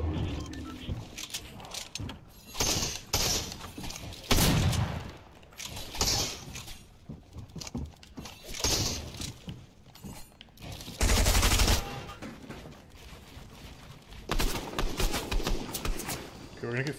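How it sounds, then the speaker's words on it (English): A drum shotgun fires in rapid succession in a Fortnite solo match, with dense bursts of loud game gunfire mixed with other in-game effects, heard under ongoing talk from a player. "with the drum shotgun, because the fire rate's so high, I don't take my time on my shot."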